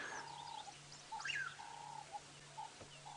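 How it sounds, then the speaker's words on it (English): Birds call and chirp around an open safari vehicle at sunrise, several faint whistled notes scattered over a low steady background hum. "We can hear quite a lot of birds around us."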